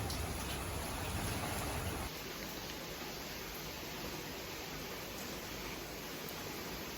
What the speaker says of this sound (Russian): Коротаем время, пока дождик идет.